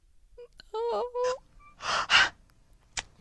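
Heavy, audible breathing in a quiet room: a few loud, breathy exhalations and gasps, close and isolated, with a vocal sound before them.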